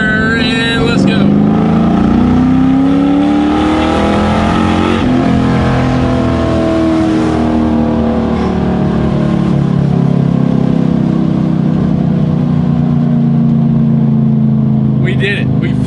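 A car accelerates hard at wide open throttle in second gear, its engine note climbing loud and close through the rev range before easing into a sustained roar.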